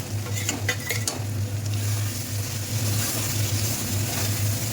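Chicken pieces go into spiced masala oil for a chicken tikka malai curry, giving a loud, steady close-up sizzle, with a few clinks of stirring near the start.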